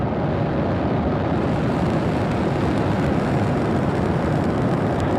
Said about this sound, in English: Liftoff. Go Falcon, go mPOWER.